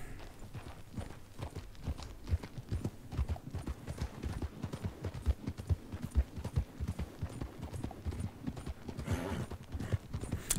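Horse hooves clip-clop steadily at a gallop while riding in the video game Red Dead Redemption Online, a fast, continuous rhythmic pounding that runs close and clear throughout.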